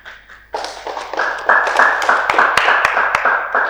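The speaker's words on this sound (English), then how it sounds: "A big round of applause for yourself" Applause from students at an inter-school engineering quiz competition, starting after a brief pause and swelling into steady, dense clapping with a few sharp louder claps standing out near the microphone.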